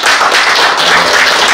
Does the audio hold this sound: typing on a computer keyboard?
no